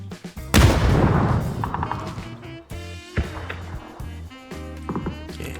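Gunfire in the battle-royale game PUBG, sharp bursts of shots scattered through the clip alongside clicking weapon and mechanical effects, fairly close and punchy.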